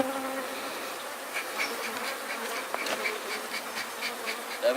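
A swarm of aggressive bees buzzing around a large honeycomb heavy with honey, a steady, close, continuous drone with individual insects whining past throughout, no talking.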